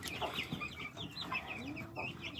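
A few-days-old brood of young turkeys in a backyard pen gives a close flurry of high, rapid chirps and peeps that overlap continuously throughout, with no talking.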